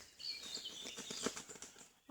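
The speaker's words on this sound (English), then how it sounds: "Oh, birds fighting in the trees." Birds scuffle in the treetops with soft irregular fluttering and wing flaps and a few faint chirps, distant and quiet against outdoor background hiss.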